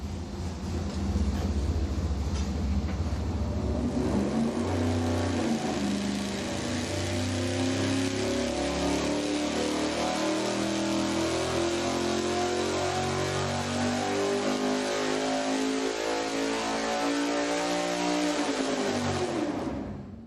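A 1000 hp naturally aspirated engine on a dyno with a regular-weight flywheel and a normal harmonic balancer, making a sustained loud roar that climbs steadily in pitch through a long pull and then cuts off abruptly at the end.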